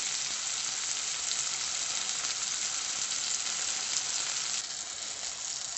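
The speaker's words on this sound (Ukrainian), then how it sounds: "От так шкварчить наше м'язко" Steady, dense sizzling of meat frying in a hot pan, loud and continuous with crackling spatter throughout.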